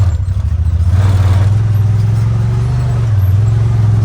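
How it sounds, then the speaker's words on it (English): A 2020 Honda Talon 1000x4 UTV drives through mud, its engine a loud, steady low drone heard from inside the cab without any talk. "As I'm driving through here, I'm gonna be turning the wheel left to right"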